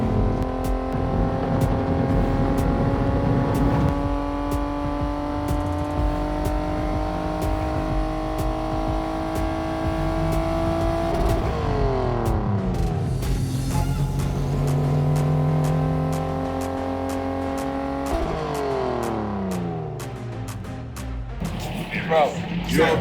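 A pace car at a NASCAR race at Las Vegas accelerates hard past 100 on the track, its engine note climbing through several gear changes with rising, revving whines, loud and close, while people talk over it inside the car.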